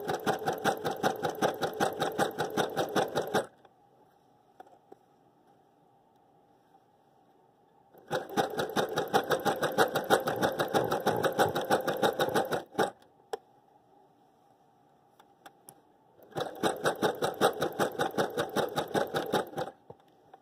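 A sewing machine stitches a neckband onto a garment in three loud, steady bursts of rapid needle chatter, each several seconds long, separated by quiet pauses with a faint low hum.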